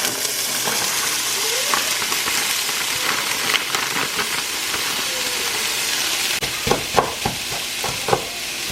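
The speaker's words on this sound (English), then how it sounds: "Alright, so I'm gonna add the rice" Rice frying in a hot pan on a home stove, a steady loud sizzle throughout with occasional clicks and scrapes from a spatula stirring it.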